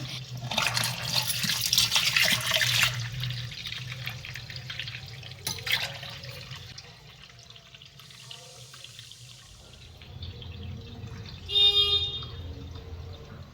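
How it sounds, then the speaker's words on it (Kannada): Tap water runs and splashes while a fish tank is washed, a soft uneven flow with drips and gurgles that fades and surges, rising to a brief louder gush near the end. "ಇನ್ನು ಪೂರ್ತಿಯಾಗಿ ಫಿಶ್ ಟ್ಯಾಂಕ್ ಎಲ್ಲ ತೊಳೆದಿದ್ದಾಯಿತು"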